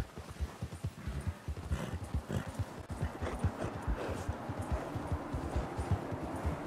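Horse hooves clip-clop in Red Dead Redemption 2 as a rider guides the animal along, a steady rhythmic run of close, distinct hoofbeats that quickens slightly and carries on throughout.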